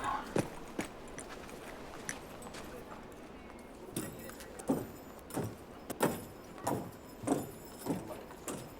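Horses' hooves clip-clop on a Western road in a steady, even rhythm of moderately loud clops.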